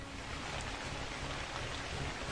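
Rain falls steadily in the video game Kingdoms, a soft, even hiss that fills the whole stretch with no voices over it.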